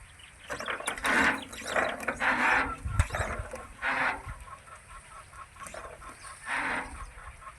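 A telescopic sprayer pole for mango trees is extended, giving a series of close mechanical ratcheting clicks in uneven bursts, with a rooster crowing faintly in the background.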